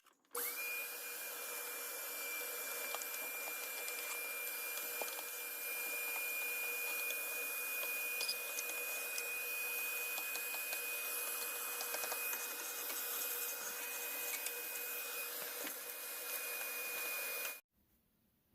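A Ridgid ash vacuum runs steadily and loud, sucking up loosened stove ash, with a constant motor whine and airflow roar that cuts off abruptly near the end.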